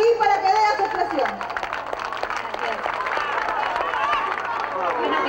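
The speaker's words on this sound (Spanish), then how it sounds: "Le damos con los fuertes aplausos a la primera dama aquí" Loud applause and clapping from a crowd welcoming the first lady at an International Day of Rural Women gathering in Peru, with cheering voices and babble mixed in throughout.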